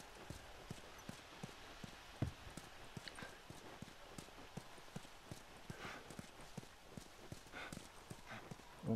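Horse hooves clip-clop in a steady walking rhythm in the video game The Last of Us, close but fairly quiet, with little else besides faint ambience.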